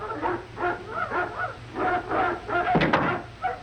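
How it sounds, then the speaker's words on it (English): Several hounds bark repeatedly inside a castle, loud and close, in a rapid rhythmic series of barks with a sharp knock near the end. "Quiet those hounds. They annoy my attorney."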